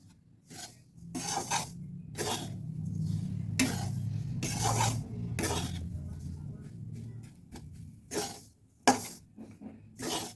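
Sugar being stirred into grated carrot mixture in a bowl, with soft repeated scraping and rasping strokes of a spoon against the bowl and an occasional light clink, quiet and close.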